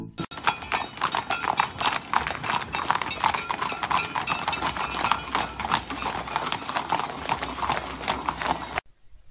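Steady, brisk clip-clop of horse hooves, loud and close, with regular beats continuing for several seconds before stopping abruptly.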